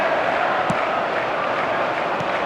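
Stadium crowd on match day in a football video game, a dense, steady roar of massed voices holding at an even level throughout, with a couple of brief louder swells but no distinct cheers breaking out.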